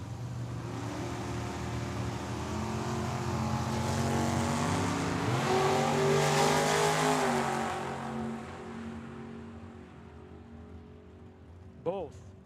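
Drag race cars, including a 1967 Corvette, launch down the strip at Tucson Dragway, a sustained roaring engine drone that swells mid-run then fades into the distance, with a brief sharp burst near the end.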